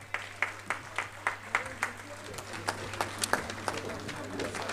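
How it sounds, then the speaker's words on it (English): Applause from the audience at a teachers' association annual conference, a steady patter of many hands clapping in a hall, moderately loud and sustained before fading slightly, with some talk mixed in. "I did talk to us about the healthy round of applause"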